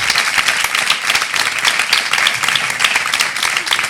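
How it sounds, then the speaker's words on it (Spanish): An audience at a campaign presentation about masculinities breaks into a dense, steady burst of applause, many hands clapping together at close range with no break. "que les diréis un fuerte aplauso a los 3,"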